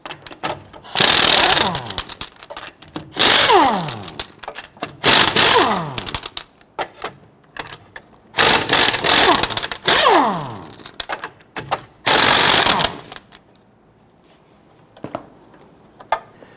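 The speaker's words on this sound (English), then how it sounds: "Using a 22mm socket, loosen and remove your lug nuts." Lug nuts on a 2006-2014 Honda Ridgeline wheel loosened and spun off with a 22mm socket on a power tool, in five loud bursts of whirring impact rattling about two seconds apart, with a faint tap and quiet gaps between.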